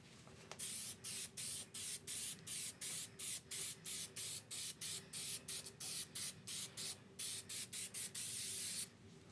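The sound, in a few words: spray coating on car fender rust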